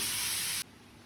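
Water poured into a hot pan of hand-ground ginger and cumin paste gives a loud, bright sizzling spray for about half a second, then cuts off sharply to a low residual hiss.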